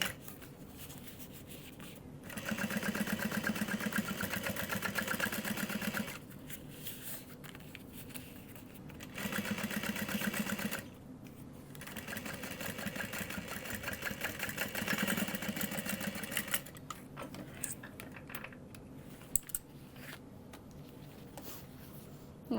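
A sewing machine top stitches a tote bag in several sustained whirring runs of a few seconds each, separated by short pauses, close and steady, with faint handling sounds between runs.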